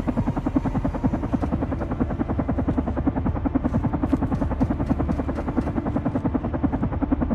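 A helicopter in the video game Carrion beats out a steady, rapid chop of rotor pulses with a low engine drone underneath, continuous and fairly close, with no voices over it.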